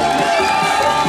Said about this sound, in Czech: Je to velký potlesk.